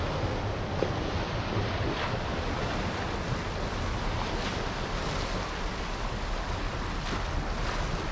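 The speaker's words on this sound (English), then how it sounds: "Some swell coming in." Ocean swell rolls in against the shore beside a lighthouse, a steady, continuous wash of surf with gusts of wind buffeting the microphone and no one talking.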